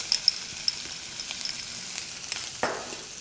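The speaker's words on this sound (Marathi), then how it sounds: "आता यामध्ये जाईल आलं लसणीची पेस्ट" Ginger garlic paste sautés in hot oil with a steady, close frying hiss, broken by a few small pops and a brief louder sizzle near the end.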